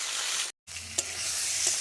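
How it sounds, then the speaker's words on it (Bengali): Pointed gourd (potol) pieces frying in hot oil give a steady, close sizzle, briefly cut off by a short gap before the hiss resumes with a couple of sharp pops and spits. "একে একে পটলগুলো সব দিয়ে দিচ্ছি পটলগুলো লাল লাল করে একটু ভেজে নিয়ে"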